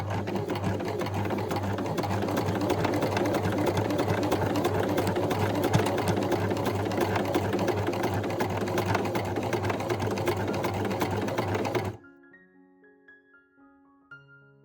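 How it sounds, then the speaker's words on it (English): A sewing machine runs a continuous straight stitch along the seam of men's shorts, a steady loud motor whir with rapid needle chatter for about twelve seconds, then stops, leaving near silence with faint music. "And sew with straight stitch."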